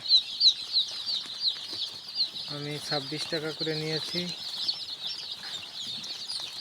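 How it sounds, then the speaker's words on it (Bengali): Sonali normal hybrid chicken chicks peep in a dense, continuous high chirping chorus on their first day, with someone speaking briefly over them. "এই সোনালি নর্মাল হাইব্রিড মুরগির বাচ্চা"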